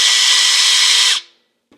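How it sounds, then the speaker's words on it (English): A power drill whines at high, steady speed while boring a pilot hole into a Dana 44 rear axle housing, then spins down quickly and stops, followed by a brief faint knock. "The first thing I'm doing is drilling a pilot hole."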